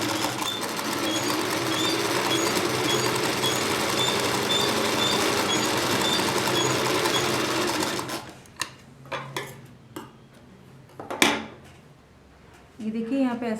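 A sewing machine runs a straight seam in one continuous, even whir for about eight seconds. It then stops, leaving a few faint clicks and handling knocks.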